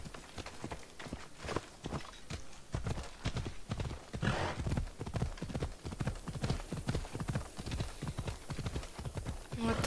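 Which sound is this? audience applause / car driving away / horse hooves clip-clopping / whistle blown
horse hooves clip-clopping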